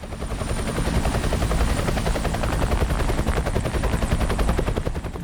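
A helicopter lowers a mini digger, its rotor chopping loudly and steadily with a dense broadband thrum for the whole stretch, with no voices.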